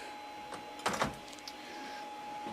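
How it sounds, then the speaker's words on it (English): An assembled Prusa MK3S 3D printer homes its axes, giving a short whirring, buzzing motor burst with a brief clack, faint and close against a quiet room hum. "it's calibrating the home position right now"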